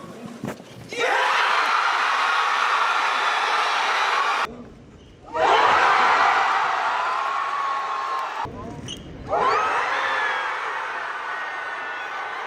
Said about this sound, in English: Watch the reveal videos and listen to that crowd.